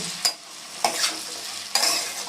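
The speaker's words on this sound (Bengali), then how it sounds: "আমি আবার নাড়িয়ে নিচ্ছি" A spoon scrapes and stirs vegetables frying with poa bhola fish in a pan, three sharp strokes over a steady soft sizzle, close and clear with no talk.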